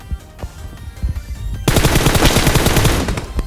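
Automatic gunfire in PUBG Mobile, scattered shots at first, then a loud, sustained rapid burst of close fire dominating the final two seconds.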